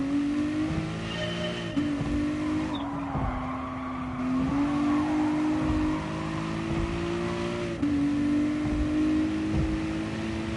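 Racing car engine in a video game time trial, revving steadily with repeated gear shifts, the pitch climbing and dropping several times, continuous and close with no talking.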